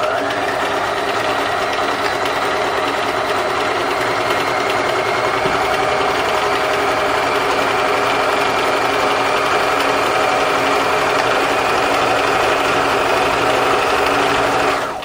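Sewing machine free-motion stitching on lace with the foot pedal pressed fast, a loud continuous motor whir with rapid steady needle chatter running unbroken throughout.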